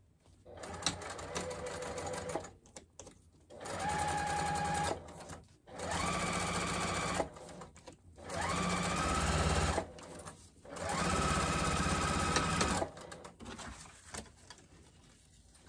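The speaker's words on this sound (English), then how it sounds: "I'm going to continue sewing that half inch all the way down the rest of the bag" A sewing machine runs a half-inch seam along a car trash bag in five steady bursts, with brief pauses between runs, close by and alone.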